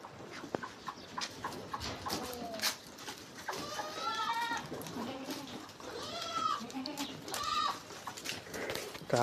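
Several goats bleat in quavering, overlapping calls, some near and some farther off, with rustling, shuffling movement and faint talk in the background.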